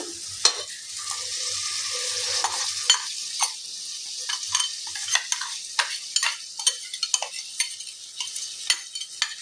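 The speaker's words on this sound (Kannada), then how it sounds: "ಈ ಟೈಮಲ್ಲಿ ನಾನು ರುಬ್ಬಿರೋ ಅಂಥ ಪೇಸ್ಟ್ನ ಹಾಕೋತಾ ಇದ್ದೀನಿ" Ground masala paste hits a hot pan for pulao and sizzles steadily while a spoon stirs it, with repeated sharp scrapes and clinks against the pan, close and alone.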